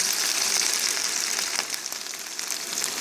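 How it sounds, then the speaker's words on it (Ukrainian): Beetroot cutlets fry in a pan, giving a steady, fine high crackle and sizzle that holds evenly throughout at moderate loudness. "котлетки підсмажуються і перевертаю на другий бік"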